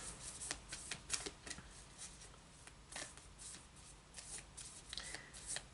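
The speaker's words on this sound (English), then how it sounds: "I still pre-shuffle the decks, so you don't have to watch a lot of shuffling" Cards riffled and bridged in quick bursts, crisp fluttering snaps repeating several times, close up with no talking.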